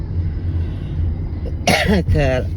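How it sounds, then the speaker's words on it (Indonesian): Two harsh coughs close up, following a stretch of low rumbling background noise. "Gue nih batuk nggak hilang loh"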